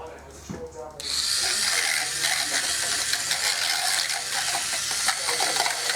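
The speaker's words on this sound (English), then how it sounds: "And then we got our handy dandy mixer." An electric hand mixer whirs steadily and loudly while mixing pretzel dough, a continuous mechanical buzz starting after a brief quieter moment and running without pause.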